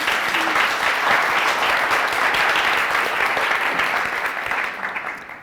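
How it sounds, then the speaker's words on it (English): A lecture audience at Novalis College claps for speaker Michaela Glöckler in loud, dense, sustained applause that holds steady before tapering off at the end. "Even een applausje."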